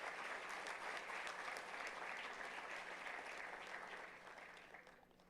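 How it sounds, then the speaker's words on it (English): An audience at a college induction and orientation programme gives sustained, even applause for a faculty member, a dense wash of clapping that gradually tapers off over about five seconds. "Dr. Nandi, please big round of applause for her."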